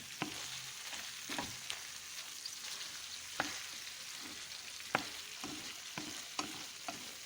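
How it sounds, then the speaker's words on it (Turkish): Chicken sautéing with colorful vegetables in a pan for tavuk sote, a steady soft sizzle broken by regular spatula clicks and stirring scrapes against the pan, close and moderate in level, without speech. "Şöyle hepsini beraber güzelce şöyle soteliyorum."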